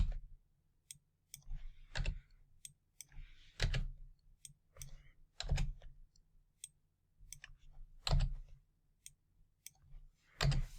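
Clue numbers typed on a computer keyboard, sparse close key clicks in small bursts separated by pauses, sharp and quiet against a silent background.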